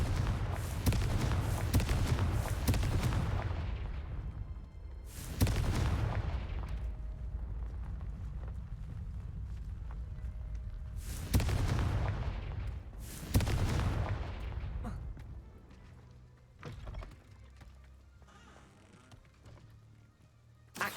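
The Confringo fire spell from Hogwarts Legacy goes off in several booming blasts, each a sharp burst that rumbles as it fades. Four or five explosions come at irregular intervals over a low background of game sound.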